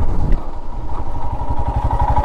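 Royal Enfield Himalayan BS6 motorcycle cruising at about 40, its single-cylinder engine giving a steady, close, pulsing thump under wind rush, with no talk.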